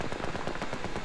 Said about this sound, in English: Oh, somebody shooting at me.